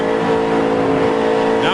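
Stock race cars roar around an oval track, a loud steady engine drone with a pitch rising near the end as cars come off a corner, under commentary.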